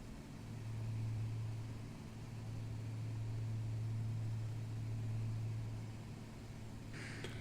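A Carenado aircraft's engine in the X-Plane 11 flight simulator drones as the plane climbs with gear up, a steady low hum that swells and eases slightly, with no speech.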